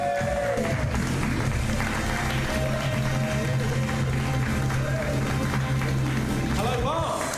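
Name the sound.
audience applause welcoming comedian Tom Glover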